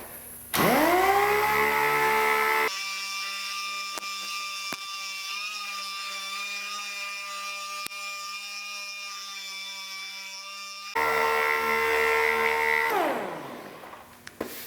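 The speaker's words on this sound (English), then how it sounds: "When sanding with a dual action sander, you never want to do anything like this or like just use the edge" A dual action sander works over a motorcycle part during paint and dent repair, its motor spinning up with a rising whine, holding a steady, fairly loud hum with a slightly lowered pitch while pressed to the surface, then winding down at the end.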